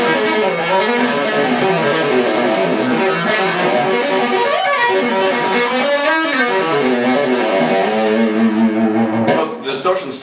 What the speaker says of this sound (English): So the distortion's still smooth.